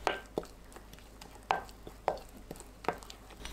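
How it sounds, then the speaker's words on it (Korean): A spoon mixes a batter of grated eggplant and onion with soup soy sauce, salt, frying mix and potato starch in a bowl, making a few soft, irregular knocks and wet scrapes close by. "간 재료에 국간장 1큰술, 고운 소금 1/3 큰술, 튀김가루 3큰술, 감자전분 3큰술 넣고 섞어줍니다"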